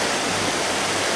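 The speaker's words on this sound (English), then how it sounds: "it almost looks like rapids because 117 has just been torn apart tonight as all of this water really has no place to go" Floodwater rushes like rapids across Route 117, a road torn apart by a flash flood in Leominster, Massachusetts; a steady, loud, broadband roar of churning water fills the whole moment without a break.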